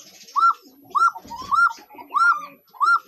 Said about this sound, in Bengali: খুব বিখ্যাত কবুতর